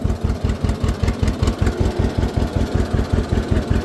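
A tractor engine idles along in first gear, its steady low chugging pulsing in a quick even rhythm, loud and close with no voices over it.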